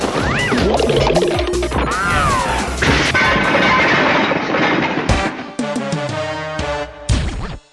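A loud, violent crash and smash of metal as a police car's wheels break off, with dense clattering debris and booming impacts filling the whole stretch before it cuts off abruptly.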